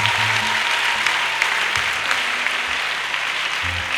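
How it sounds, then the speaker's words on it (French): A church congregation at a Pentecostal service claps steadily and loudly together, a dense continuous burst of applause filling the room with a bit of low murmur beneath it. "can somebody clap for Jesus?"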